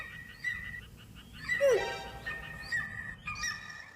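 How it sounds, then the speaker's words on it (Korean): A recorded eagle cry played to quiet frogs: a sharp, descending screech near the middle, with chirping bird-like calls before and after. All of it is faint and heard alone. "독수리 울음소리를 들려준다고?"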